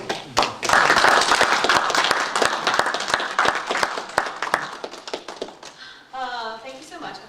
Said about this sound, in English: I've got applause, but I didn't even do anything yet